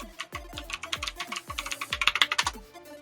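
Someone types a password on a computer keyboard during a Windows Whistler install, producing a close, steady run of clicking keystrokes that speeds up toward the end.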